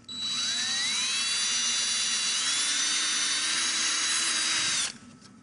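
A power drill bores a bolt hole in wood for a DIY stool, a loud continuous whine rising in pitch as it spins up, then cutting off abruptly near the end.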